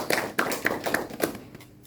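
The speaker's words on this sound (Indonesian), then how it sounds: "tepuk tangan semuanya" Short burst of applause in a classroom or lecture setting, a few distinct hand claps spaced unevenly then fading out.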